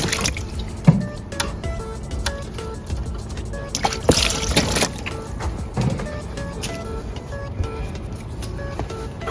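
Water is poured and dribbles onto a surface during cleaning with a cleaning pad, with irregular drips, trickles and wet squishes close by and no speech.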